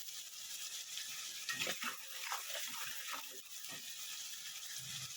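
Onions fry in a pan with a faint, steady sizzle, broken by several scraping stirs and clinks of a utensil against the pan, close by.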